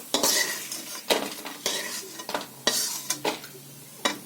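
Fried lentil dumplings (bori) being lifted out of hot oil in a pan for a prawn, plantain, potato and aubergine curry: repeated sharp scraping and clinking strokes of a spoon or slotted ladle against the pan over a low sizzle, close and without talk.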